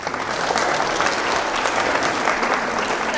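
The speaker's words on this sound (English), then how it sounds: "Round of applause, please, for Stuart" An audience at a motorsport conference applauds with dense, steady clapping that fills the room.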